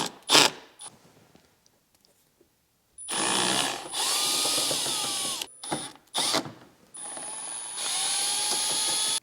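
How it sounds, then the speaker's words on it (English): A power driver unscrews T20 Torx screws from a Land Rover LR3 fog light, whirring in several bursts of whining drilling with short pauses between them, close and loud, with a faint click near the start. "Now there's going to be 3 T20 Torx bits in there that we need to unscrew."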